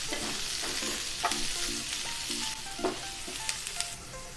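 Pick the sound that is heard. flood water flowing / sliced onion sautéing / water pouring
sliced onion sautéing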